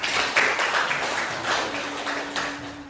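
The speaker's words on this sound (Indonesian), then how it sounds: "Tepuk tangan untuk kita semua." A junior high school class in Indonesia applauding at the end of a mathematics lesson, a moderate patter of many hands clapping steadily with a faint sustained tone entering partway through.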